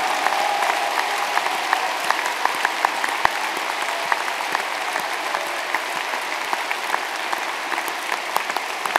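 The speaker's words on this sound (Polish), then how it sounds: "Oklaski dla Ducha Świętego." Loud, steady clapping from a congregation at a religious gathering fills the space as continuous applause with crisp individual claps standing out, sustained throughout.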